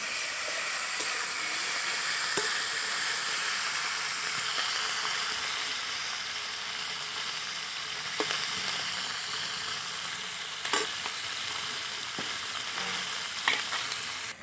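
Tangra fish fry together in hot oil, a dense, constant sizzle lasting throughout with occasional faint utensil taps; no voices.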